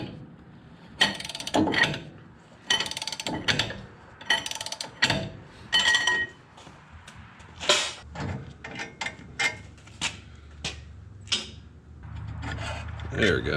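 Cheater bar breaking loose a front brake caliper bolt on a 2008 Toyota Tacoma: a series of ratcheting, scraping metal clicks and rubs in uneven bursts, with a person speaking in between.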